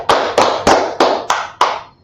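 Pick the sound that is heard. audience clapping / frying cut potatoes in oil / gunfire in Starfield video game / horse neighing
audience clapping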